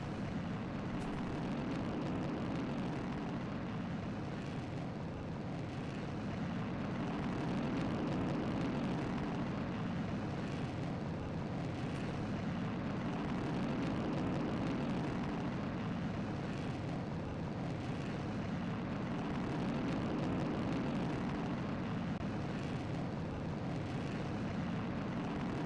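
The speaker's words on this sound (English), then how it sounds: "Throttle set the full. Ignition sequence start." A rocket engine roars continuously after lift-off in Kerbal Space Program, a steady, dense, rumbling burn that stays loud and even with slow swells and no speech.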